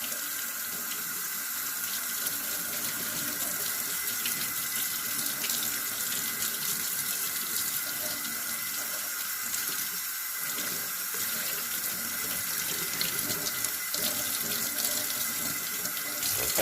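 Water runs steadily from a tap onto small air conditioner filters, a continuous close hiss and splash lasting throughout.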